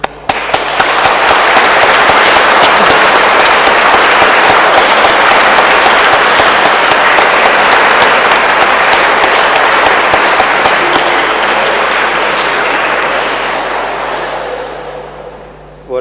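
Loud, sustained applause for newlyweds at a wedding mass in a church in Aubange, dense crowd clapping that holds steady for many seconds before slowly tapering off, with no voices.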